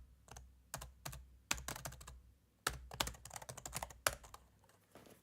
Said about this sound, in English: I got a new keyboard that should be quieter